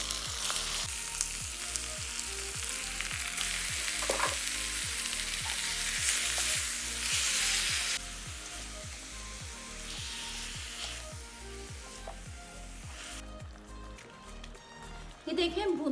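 A kilo of thinly sliced beef for pasanday fries and sizzles in a pan, a continuous loud crackle with rhythmic stirring scrapes, then the sizzle softens and settles toward the end.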